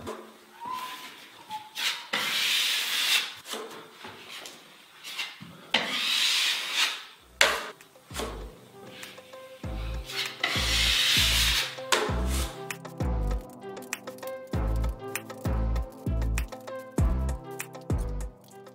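A taping knife rasps and scrapes Sheetrock 90 quick-setting joint compound over drywall screw heads in a home office build, with repeated strokes and sharper ticking knocks in the second half, close and moderately loud.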